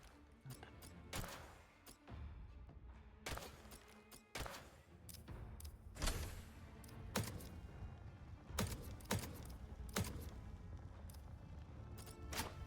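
Rapid clicking from a magnetic computer keyboard, with sharp keystroke bursts scattered irregularly across a busy, steady background of game sound. No voices.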